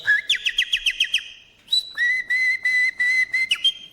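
A person whistles an imitation of a nightingale's song: a rapid series of short trilled chirps, then longer sustained piercing notes with quick pitch jumps, clear and close, without talk.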